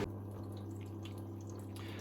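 A washing machine takes on water, heard as a steady low hum from the machine with faint trickling and dripping over it throughout.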